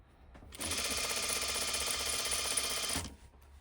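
A sewing machine stitches a hem in one continuous whirring run of about two and a half seconds, loud and close, starting and stopping abruptly with quiet before and after.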